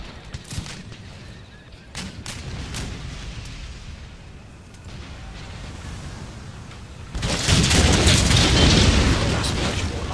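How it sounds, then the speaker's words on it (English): Mortars fire in an Empire Total War battle in India, giving repeated booms and gunfire bursts over a dense battlefield din that swells much louder near the end. "also the mortars are coming out as well"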